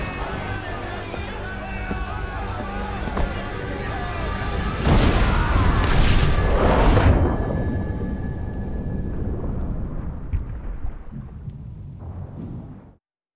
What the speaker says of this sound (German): Das Magazin! Es explodiert!